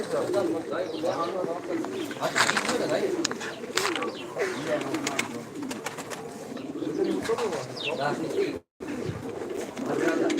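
Pigeons kept in a Turkish loft coo repeatedly, near and soft, in overlapping throaty calls with a few chirps, while someone talks over them.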